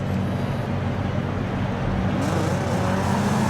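Low car from Donut Media driven in Forza Horizon 5, a steady engine drone and road noise that holds constant throughout with no break, brightening a little partway through.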